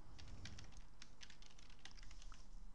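Quick, irregular keystrokes on a computer keyboard while entering a name, light clicky taps close by at a quiet level, with no voices.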